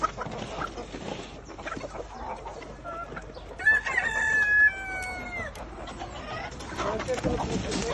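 A rooster crows once in a long, drawn-out call, near and clear, over a background of clucking hens and farmyard noise, with some talk nearby.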